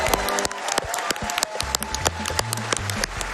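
An audience at a live speedrunning charity marathon event claps through a Super Mario World romhack race, with dense, loud, continuous applause mixed with game music.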